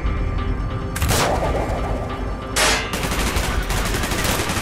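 Heavy bursts of gunfire from the Call of Duty: Black Ops game, loud and close, with dense crackling volleys repeating in waves and no pauses between them.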